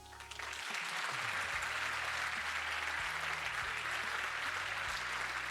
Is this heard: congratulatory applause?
yes